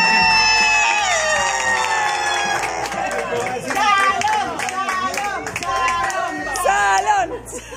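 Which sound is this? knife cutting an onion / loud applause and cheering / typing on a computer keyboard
loud applause and cheering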